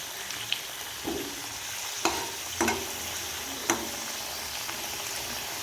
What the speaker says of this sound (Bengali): দেখো আমি উল্টে পাল্টে ভালো করে একটু ভেজে নিচ্ছি